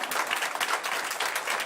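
An audience applauds at a news broadcast segment, a brief burst of dense, even clapping at moderate level with faint voices beneath it.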